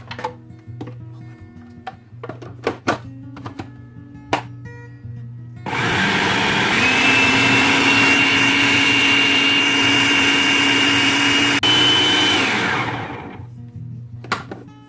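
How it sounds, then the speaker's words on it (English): A blender grinds frozen garlic and stripped frozen chive together for a homemade spinach tortilla, a steady loud whirring motor that starts after a few seconds of small kitchen clicks and taps, holds its pitch for about eight seconds and then winds down. "I'm gonna grind this all together"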